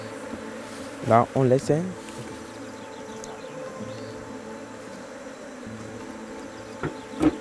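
Honeybees hum faintly and steadily around an open hive while a beekeeper works, with a few short spoken words from a voice early on and a couple of brief knocks near the end.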